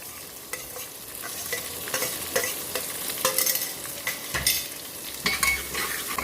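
Onion frying in a pan with cumin and garlic-green chilli paste for a lauki sabzi, a steady crackling sizzle with frequent spoon scrapes and knocks that grow busier toward the end, close up and without speech.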